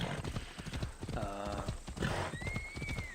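Horse hooves clip-clop in a steady rhythm while riding along a road in the video game Assassin's Creed Odyssey. A whinny rises partway through, over game ambience.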